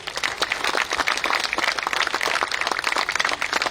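Dense, steady crowd applause at a Trinamool Congress political gathering in Goa, a continuous patter of many hands clapping at moderate volume throughout.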